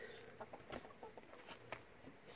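Rescue hens squawking and clucking in repeated short bursts, close and fairly quiet, with no other sounds over them.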